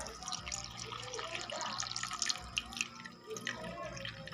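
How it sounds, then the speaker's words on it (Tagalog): Water poured into a cooking pot while making fish paksiw, a steady trickling and splashing with small drips, fairly faint and close, with no talking over it. "Lagyan na rin natin ng tubig."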